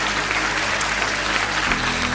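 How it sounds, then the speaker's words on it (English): A crowd claps steadily, with dense, even applause that is loud and sustained from start to finish and has no distinct voices over it. "Clap it up. Clap it up."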